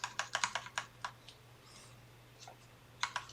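Fingers type on a computer keyboard, entering a search in a web portal: quick bursts of crisp key clicks with a short pause, then a final flurry, close and fairly quiet.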